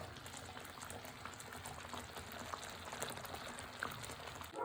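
Pineapple jam boils hard in a pot, bubbling and spitting in a steady, dense, close-up seethe with no voices over it.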